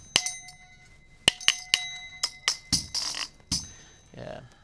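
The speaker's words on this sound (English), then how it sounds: "at the top, that is a sink strainer." Bright metallic clinks and pings tapped on a sink strainer, a thin perforated metal piece, a string of sharp ringing hits followed by some scraping rattles, close up.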